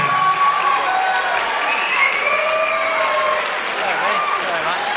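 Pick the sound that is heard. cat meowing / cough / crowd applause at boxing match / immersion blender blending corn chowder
crowd applause at boxing match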